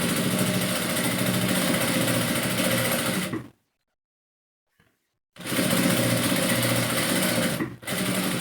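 An electric sewing machine stitches the edge of a kurta in steady, loud whirring runs that stop abruptly for about two seconds, then restart, with another brief pause near the end.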